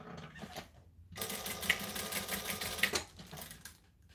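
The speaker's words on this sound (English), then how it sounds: "So I need to sew across the bottom." A sewing machine stitches across the bottom of a piece, a steady close whirring run of about two seconds with faint clicks, bracketed by quieter handling noises.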